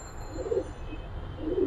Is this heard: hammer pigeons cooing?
yes